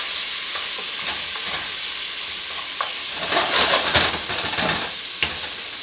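Bacon and chicken fry at high heat for chow mein, a constant loud sizzle with scattered clinks and scrapes of stirring that grow busier partway through, close up and without speech.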